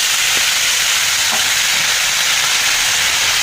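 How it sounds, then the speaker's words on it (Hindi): Food fries in hot oil in a kadai, giving a steady, loud, even hiss and sizzle with a couple of faint soft knocks beneath it and no talking. "एबे आमे भाजीबा।"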